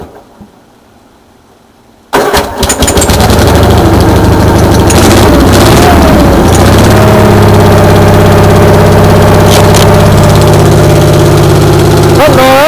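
Engine idling after a cold start in the rain with the choke set halfway, a steady low rumble with a faint overtone that holds from about two seconds in and runs loud and continuous after a quiet opening, while a person talks over it.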